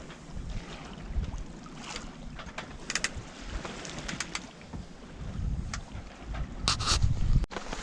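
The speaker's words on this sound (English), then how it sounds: "Now we have some more wind." Wind gusts across the microphone on open water near Hemön and the Umeå coast, a rough blustery rush that swells and fades, with occasional knocks and creaks from the boat and a louder gust at the end.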